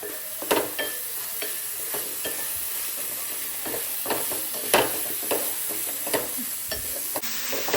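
Green chilli paste with turmeric fries in a pan for a bharit dish, and a spoon stirs it now and then. A steady close sizzle runs throughout, with irregular scraping knocks from the spoon and no voices.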